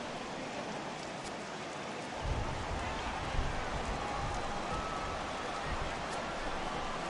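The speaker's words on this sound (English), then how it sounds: "the rain starting to intensify here. It's coming down a little heavier now." Steady rain falls during a baseball video game cutscene, a dense even hiss that thickens and grows heavier after the first couple of seconds and continues without a break.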